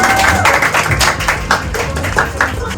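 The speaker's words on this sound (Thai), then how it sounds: "ขอ เสียงปรบมือกับเดียทีวีเกตอีกทีครับผม" An audience applauds at an album listening event, with a dense, steady wash of clapping held loudly and close throughout, with no voices over it.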